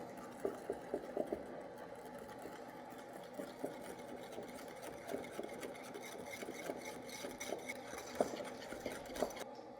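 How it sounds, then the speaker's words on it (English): A whisk beating yum yum sauce in a bowl, a soft, fast rhythmic scraping and clinking that runs steadily and fairly faintly with no voices. "So now I'm just gonna whisk it together."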